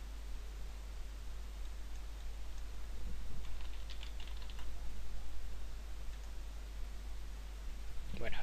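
Soft keyboard typing while a password is entered on a computer, a quiet scatter of clicks over steady background hiss.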